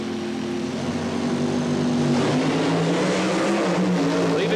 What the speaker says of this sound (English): Leaving the line together, Armstrong beginning to pull a bit of a lead.